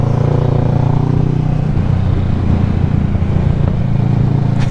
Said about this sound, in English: Oh, I love riding a motorcycle